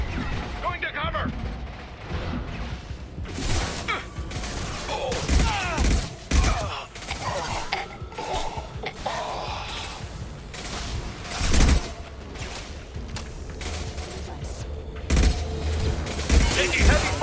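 Sustained heavy gunfire in Mass Effect 2 combat on Insanity difficulty, dense rapid bursts with booming impacts throughout, loud and continuous, with voices calling out over the battle.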